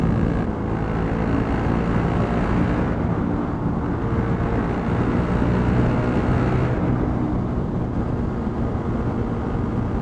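A motorbike engine booms steadily inside a tunnel, a loud continuous reverberant drone with broad low rumble throughout and no voices.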